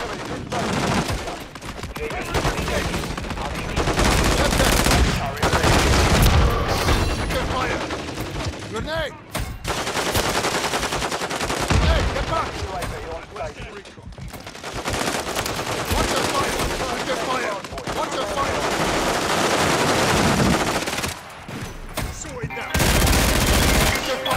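Dense, loud Call of Duty gunfire with rapid automatic bursts and heavy shotgun blasts crowd the whole stretch, broken by only a few brief lulls, with a voice talking over the shooting.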